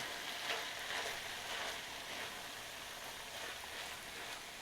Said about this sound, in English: And we're just going to stir this through just so that it all combines together.